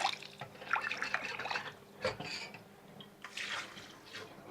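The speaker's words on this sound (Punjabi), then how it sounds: "ਨਾਲ ਦੇ ਨਾਲ ਉੱਤੇ ਥੋੜਾ ਜਿਹਾ ਠੰਡਾ ਪਾਣੀ ਪਾ ਦਾਂਗੇ" Cold water is poured over cooked vermicelli, giving a faint splashing trickle with a few drips that swells and fades in short bursts at close range.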